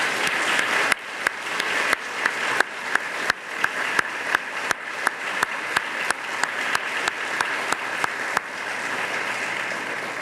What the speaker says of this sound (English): Please join me in giving these individuals a warm round of applause.